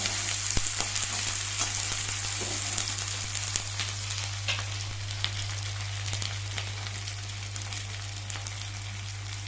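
Onion fries in hot oil with garlic and ginger paste, producing a steady, close, crackling sizzle with sharp pops and spatters throughout and no talking.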